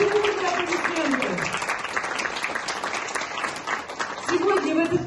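Audience applause at a folk song concert, a dense wash of clapping filling the whole stretch, with a presenter's voice heard over it at the start and again near the end.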